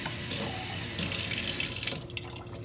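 Water running from a kitchen tap into a container while cooking braised beef cheeks, a steady splashing stream that swells louder midway, then cuts off near the end, leaving faint drips and quiet.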